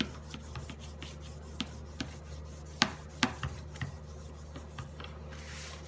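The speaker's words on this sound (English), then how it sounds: "to burnish this down, make sure it's stuck real well. Bone folder works as well." Paper being burnished down onto a glued book cover with a bone folder, soft rubbing strokes punctuated by scattered sharp scrapes and taps, quiet and close.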